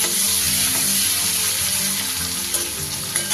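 Chopped small tomato hitting hot tempering oil in a pan while cooking a green banana dish, giving a steady close hissing sizzle with faint stirring clinks throughout.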